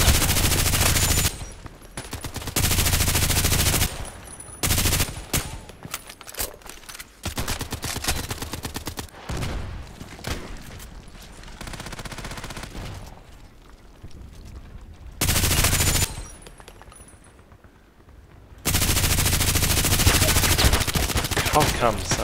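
Loud automatic gunfire from the Contract Wars video game, with long rapid bursts and shorter volleys separated by brief pauses. The shots are close and dominate the scene over a busy game background.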